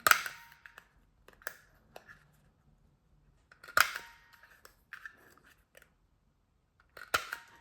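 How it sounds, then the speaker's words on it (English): Sharp clipping snaps from a ticket corner punch trimming paper corners for an autumn mini folio, heard as loud isolated crunchy clicks, some doubled, spaced irregularly with quiet gaps between. "I'm going to use this ticket corner punch thingy because it's a bit stronger"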